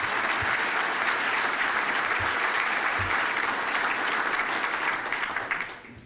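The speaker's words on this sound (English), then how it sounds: "let's give Larry and his staff a round of applause for all that he does" A breakfast crowd applauds the chamber staff with sustained, dense clapping that holds steady for several seconds before fading out at the end.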